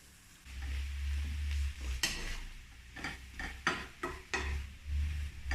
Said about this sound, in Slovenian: Čebulo že pražim.